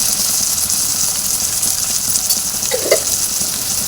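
Curry leaves, ginger garlic paste, turmeric and asafoetida frying in a pan, a steady close hiss of sizzling oil with a faint stir or clink near the end, no talk.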